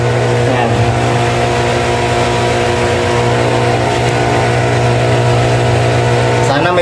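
A 3/4 horsepower swimming pool pump running, a loud, steady motor hum with a strong low drone and constant mechanical whine, while a voice speaks over it.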